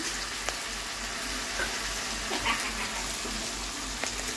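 A paste of ginger, garlic, green chili and tomato sizzling in a hot pan, a steady close frying hiss with small pops and a few stirring scrapes, no talking.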